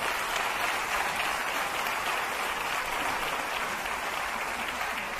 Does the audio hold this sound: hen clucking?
no